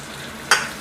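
Chili paste being stir-fried for squid, with a splash of water hitting the hot pan: a single sudden burst of sizzle that flares loud and then slowly fades into a quieter background.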